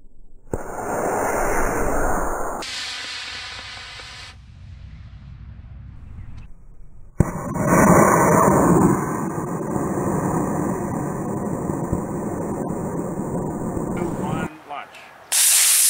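A model rocket motor ignites with a loud roaring hiss that lasts a couple of seconds, followed by a second long, harsh rushing burn that roars steadily for several seconds before cutting off, heard outdoors on a windy day.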